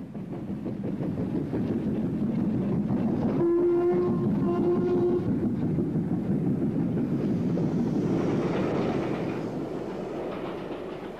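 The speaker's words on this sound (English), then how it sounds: "The leading train comes past the box as the signalman looks out to ensure that the complete train with its bankers passes his box." Steam train with banking engines at the rear rolling past a signal box, a loud continuous rumble and rhythmic clatter of wagons with a brief whistle blast partway through, sustained throughout.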